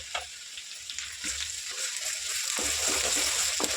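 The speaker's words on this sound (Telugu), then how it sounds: "అల్లం పేస్ట్ కూడా కొంచెం వేగనిద్దాము." Ginger paste frying in oil with onions for a dried-fish, mango, brinjal and drumstick curry, a steady close sizzle with soft crackles and occasional stirring scrapes that grows slightly louder toward the end.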